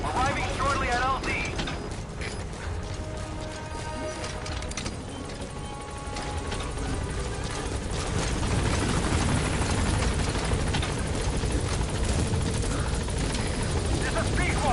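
The Pequod support helicopter in Metal Gear Solid 5 arrives at a landing zone, its rotor chopping and its engine whining loudly and continuously close by, while radio voices and game sounds play over it.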